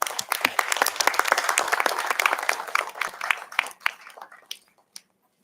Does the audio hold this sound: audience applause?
yes